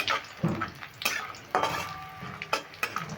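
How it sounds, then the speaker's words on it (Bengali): Kalai dal bori, crumbled lentil dumplings, fry in spiced oil in a pan while a spoon stirs and scrapes against the metal in several distinct bursts, close and clear. "বড়িগুলো দিয়ে একটু লালচে করে ভেজে নেব"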